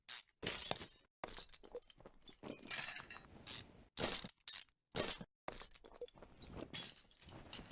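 A ratchet working the front steering nut off a car in Car Mechanic Simulator 2015, as short bursts of metallic clicking and clattering separated by silent gaps, fairly close and fairly quiet.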